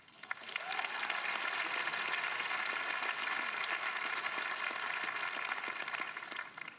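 A graduation ceremony audience at Johns Creek High School claps in sustained, dense applause, a steady wash of many hands that rises quickly and holds at a moderate distance.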